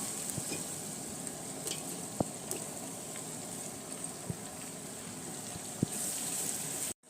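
Onions and tomatoes fry steadily in a pan for vegetable pulao, a continuous close sizzle broken by a few sharp clinks of stirring.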